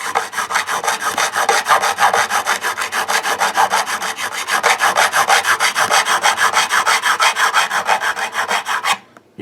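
A crowning file scrapes material off the metal frets of a Telecaster-style electric guitar in steady, rhythmic back-and-forth strokes, close and loud, stopping abruptly near the end with no talking.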